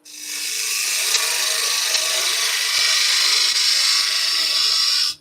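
Wooden spindle spinning on a lathe as a fluted gouge sweeps across it, giving a steady, close, continuous scraping hiss that holds level for about five seconds with a faint motor hum beneath and no talk.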